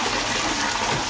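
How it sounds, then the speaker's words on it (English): A toilet flushes in a bathroom with a blocked drain, a continuous loud rush of gushing water filling the whole moment, close by. "Gave it a courtesy flush"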